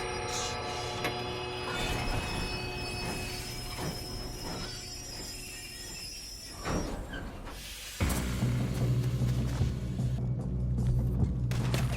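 A train in the video game Red Dead Redemption 2 rumbles along with a steady low roar and metallic ringing, then a heavy boom and louder, harsher rolling clatter take over.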